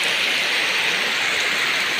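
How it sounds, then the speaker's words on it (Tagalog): Steady rain pours down in a constant, loud hiss with no pauses, heard from the shelter of a tree on an outdoor visit to Ilat. "Nabot na tayo ng ulan dito"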